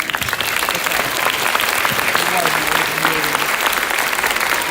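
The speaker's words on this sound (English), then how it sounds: "Let's give that group a big round of applause." Applause fills a high school graduation ceremony, a large crowd clapping steadily and loudly throughout with no break.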